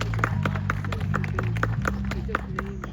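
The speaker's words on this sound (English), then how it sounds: "give a little round of applause" A memorial gathering's audience gives a round of applause, a steady patter of claps over a low sustained drone, with faint voices underneath.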